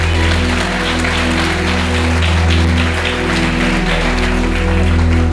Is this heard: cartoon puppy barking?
no